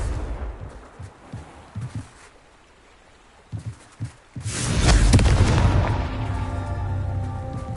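Confringo spell explosions in Hogwarts Legacy on PS5, a few muffled booming thumps early, then a loud blast at about the midpoint that leaves a sustained rumbling roar to the end.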